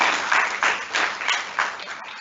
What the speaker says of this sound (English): They do deserve a huge round of applause.